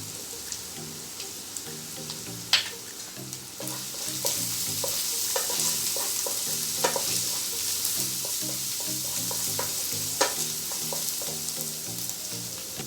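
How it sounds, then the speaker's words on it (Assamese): Chopped onions fry in oil over a low flame with a steady, close sizzle, broken by occasional sharp clinks and scrapes from stirring. "কম জুইত পিঁয়াজখিনি আমি ৰঙাকৈ ভাজি ল'ম।"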